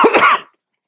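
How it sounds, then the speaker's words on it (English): A single person clearing their throat: a short, harsh burst of rasping and hacking lasting about half a second, close and loud, then silence. "I'm going to have to clear my throat"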